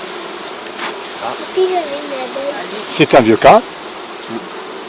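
Honeybees buzzing around a hive frame, a steady hum with a few louder close passes, while someone talks in French over it.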